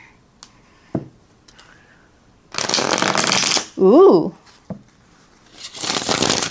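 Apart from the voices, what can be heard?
riffle shuffling glossy tarot cards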